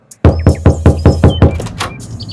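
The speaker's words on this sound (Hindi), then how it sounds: "दोबारा दरवाजा खटखटाता हूँ।" Knocking on a door in a Hindi cartoon story: about seven firm, evenly spaced knocks, close and loud, with a little resonant thump behind each, followed by a brief fading tail.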